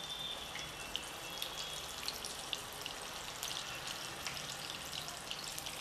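Bread pakoras fry in hot oil, giving a dense, even bubbling sizzle with fine crackles that holds steady throughout.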